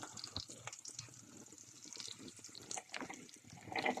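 Cider is poured into a pan to make a sauce for a cockerel dish with porcini, producing faint, soft trickling and dripping liquid sounds with a few brief splashes, fairly quiet throughout.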